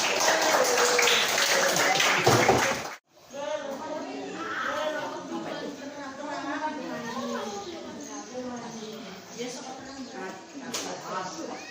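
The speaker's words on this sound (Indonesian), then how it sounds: "tepuk tangan juga" A class at an Arabic language course bursts into brief loud clapping that cuts off abruptly, followed by a teacher talking.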